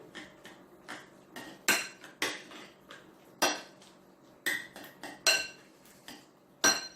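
A utensil stirs potatoes in tomato sauce in a pan, making irregular clinks and scrapes of metal on the cookware, with bursts close together and then short pauses, and no talk.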